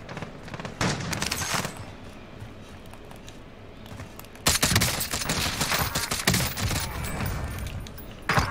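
Gunfire in the Warzone video game during a trios match: bursts of automatic fire and scattered shots, loud and close, with a heavier barrage erupting midway and continuing to the end.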